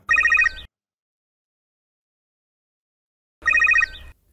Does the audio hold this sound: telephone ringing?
yes